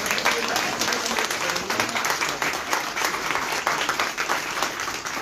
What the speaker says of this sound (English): Give a round of applause and appreciate that.